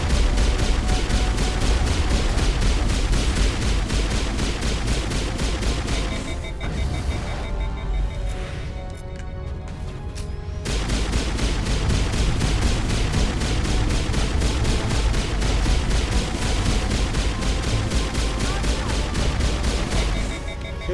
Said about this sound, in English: Continue firing at the Geth dropship.